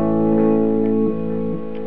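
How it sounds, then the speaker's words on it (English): Sustained harmonic tones run through a tape-echo style delay pedal with chorus off, loud and steady, with pitch shifts near one and one-and-a-half seconds and soft repeating echoes trailing behind. "It really does sound like a tape echo to my ears."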